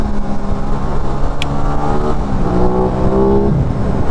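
A motorcycle on its stock OEM setup cruises steadily, its engine droning loud and close with a few shifting tones as it rides, with wind noise over the top and no talk.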